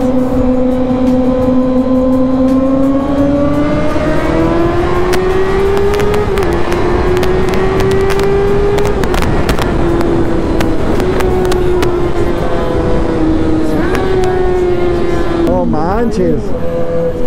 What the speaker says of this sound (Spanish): yo estoy enamorado del sonido de mi moto